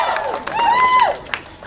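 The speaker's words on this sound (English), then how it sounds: "If you want to get an applause, all you have to do is say Michelle Steele." A crowd at a homelessness campaign launch applauds with scattered claps, and a sharp whistle-like tone rises and falls over the noise, fairly close.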